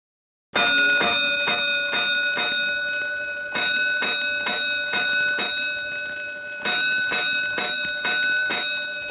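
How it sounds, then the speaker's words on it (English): Fire alarm bells: bright metallic strokes ring in repeated groups, each cluster of rapid clangs separated by short pauses, loud and close with long ringing tails. "A 5-alarm fire, 5 bells."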